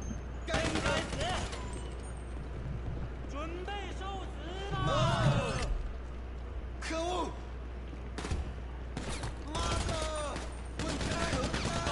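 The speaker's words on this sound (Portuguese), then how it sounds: "quem é que tá atirando em mim?" Gunfire in GTA V Online, a mission shootout with bursts of shots spread through the clip, some loud and near, under steady game noise and someone talking.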